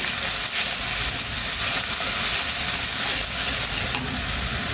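Chili, cumin and coriander powders sautéing in hot oil give a loud, continuous close-up sizzle and hiss, with faint stirring scrapes, and no voices.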